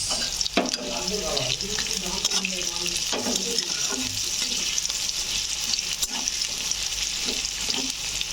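Onion with a pinch of salt sizzles steadily in a hot pan, a dense continuous frying hiss with occasional stirring scrapes and clinks, close and fairly loud throughout.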